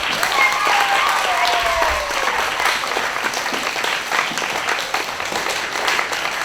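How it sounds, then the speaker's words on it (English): Audience applause at an Oneida County event with school officials and staff, a dense, steady wash of clapping from a crowd filling the whole stretch, loud and sustained with a few whistle-like tones early on. "Give yourselves a round of applause."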